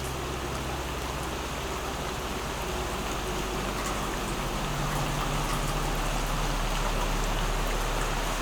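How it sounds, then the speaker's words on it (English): Steady, dense rainfall with a continuous hiss and patter on surfaces, unbroken throughout, with a low background rumble. "Today it was raining all day."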